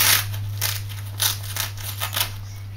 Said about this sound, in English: nicely sealed with Velcro